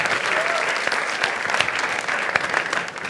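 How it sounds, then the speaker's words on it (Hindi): A studio audience at a comedy talent show claps loudly and continuously for the whole stretch, with dense, even applause and no pauses. "एक बार जोरदार ताली"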